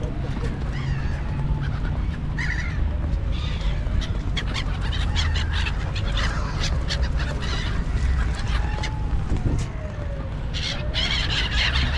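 Pigeons crowd a snowy city street in Lahijan, Gilan, Iran. Dense, continuous bird calls and fluttering mix with a low street rumble throughout.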